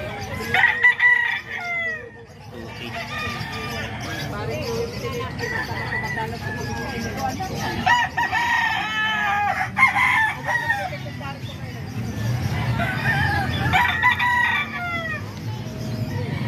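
A small rooster at a Calumpit poultry market crows repeatedly, with several loud cock-a-doodle-doo calls rising over clucking fowl and someone talking throughout.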